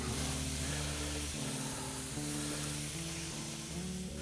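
Pineapple and scallions hitting a hot pan for plum-teriyaki beef fried rice, a loud, close, continuous sizzle and hiss over a low background drone.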